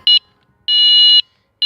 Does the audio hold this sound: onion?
no